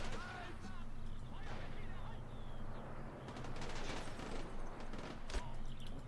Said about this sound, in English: Will this explosion from the BA-64 kill anything?